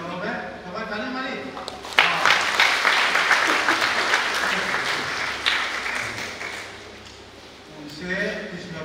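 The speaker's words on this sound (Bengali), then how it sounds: "সবাই তালি মারি" Audience at a Christian festival worship gathering breaks into loud applause that swells, holds for several seconds and fades, with someone speaking before and after the clapping.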